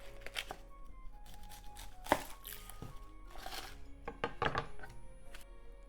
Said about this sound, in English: Cut the top and the bottom off.